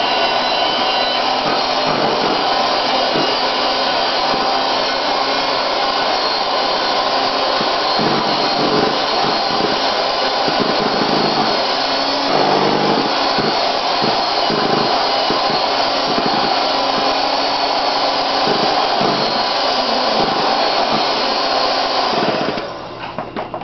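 An electric hand mixer runs at medium speed in a mixing bowl, giving a loud, steady motor whine that holds for over twenty seconds with faint rhythmic beater scraping, then drops off abruptly at the end.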